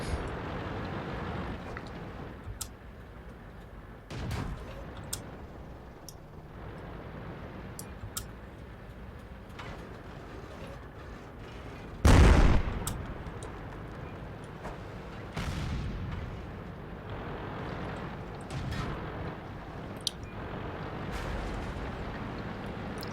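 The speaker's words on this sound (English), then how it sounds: "Then let our artillery come in and help out." Artillery fire in World of Tanks, scattered booms over a low engine rumble, with one loud heavy blast near the middle standing out against fainter distant thuds and sharp cracks.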